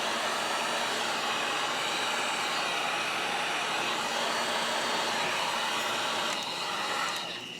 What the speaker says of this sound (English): I'll heat this tube a little bit more